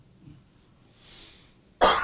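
One sharp, loud cough bursts out at the end after near silence, close to the listener and with no talking.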